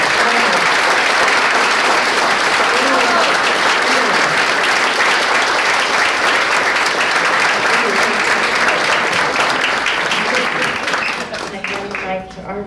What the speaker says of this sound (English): Would you all join me in another round of applause?